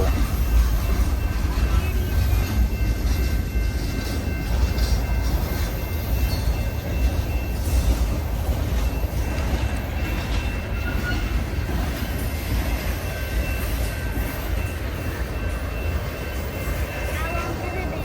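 A long freight train rolls past continuously and steadily, a sustained rumble of wheels on rail with a faint squeal, staying loud and close throughout.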